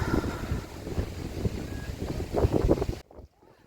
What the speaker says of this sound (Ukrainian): не дивлячись на такий страшний вітер